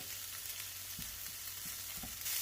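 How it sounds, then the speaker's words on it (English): Mushrooms, jalapenos and onions saute in hot avocado oil, a close, even sizzle with occasional soft knocks of stirring in the pan and no voices. "saute up a little bit in that avocado oil"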